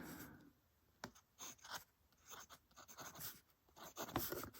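A Lamy Safari fountain pen with an extra fine nib scratches across paper in quiet, irregular strokes and short scribbles, close up and alone.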